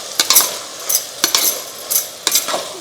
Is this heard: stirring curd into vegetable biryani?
yes